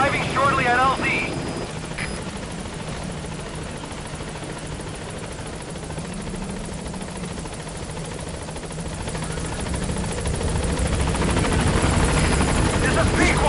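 Helicopter B-Quad from Metal Gear Solid V: The Phantom Pain approaching a landing zone, a steady rotor and engine drone filling the scene while radio voices talk over it.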